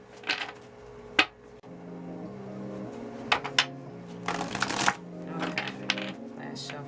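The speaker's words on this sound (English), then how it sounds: "Okay, last shuffle." Tarot cards shuffled by hand during a reading, giving a few sharp riffling bursts and soft slaps over a steady background music bed, with quiet gaps between the shuffles.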